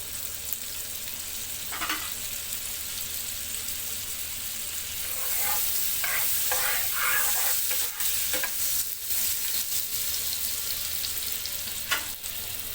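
Potatoes for dum aloo shallow-fry in a pan of butter and oil, giving a constant bright sizzle. Several scraping spatula strokes come in a cluster midway, and no one speaks.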